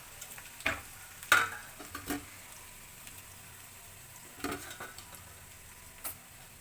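Chopped onion, garlic and green chilies sizzling in hot oil after mustard seeds pop, with a steady quiet fry broken by several spoon scrapes and clinks against the pan while being stirred.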